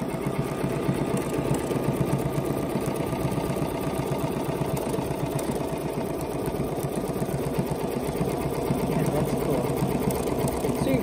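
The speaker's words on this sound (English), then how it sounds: "Quilting the table runner," A BERNINA sewing machine quilts a table runner, its needle running in a steady, fast, even chatter that holds nearly constant from start to finish, close to the microphone and without pause.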